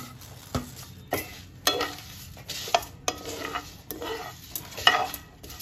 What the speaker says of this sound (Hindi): इसको सौंफ जीरा को मिला के भुनेंगे